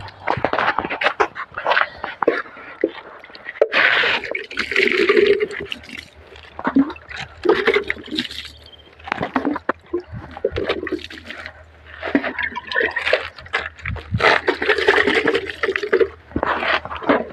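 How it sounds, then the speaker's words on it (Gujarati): Water is poured over home garden plants, including a young tomato plant, in loud irregular gushes and splashes separated by short pauses, with a few faint vocal sounds between the bursts. "આ બધાને પાણી ખાઈ દઈએ આપણે"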